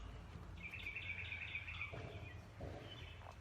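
Faint bird chirping at a home on a spring morning, a thin rapid trill followed by a couple of softer calls, distant and quiet over low background hum.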